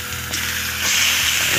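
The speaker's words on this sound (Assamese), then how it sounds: "তো মাংসখিনি এতিয়া এনেকৈ ভাজি থাকিব লাগিব" Local chicken meat frying in a pan over a wood fire in a village home kitchen, a steady close hiss of sizzling that swells louder partway through, with no talk.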